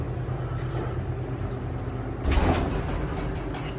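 A KONE hydraulic elevator door at Macy's in University Heights slides shut with a muffled rumble and a brief thump partway through, over a steady mechanical hum.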